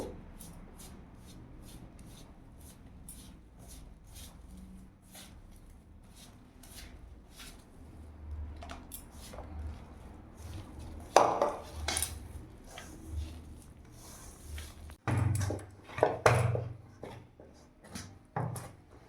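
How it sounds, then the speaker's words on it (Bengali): Spinach puri dough worked by hand in a bowl, with soft squishing, pressing and rubbing noises repeating unevenly, a few louder knocks near the end, and no talking. "এবার এই অল্প অল্প দিয়ে আমি ভালো করে মেখে নেব।"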